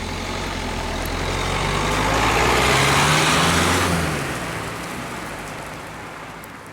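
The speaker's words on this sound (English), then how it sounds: "Here we are in the Dacia Duster on the road, dusting up the road." A 2014 Dacia Duster drives along a road, giving a steady wash of road and tyre noise with low engine hum that swells gradually mid-way and eases back, no voices.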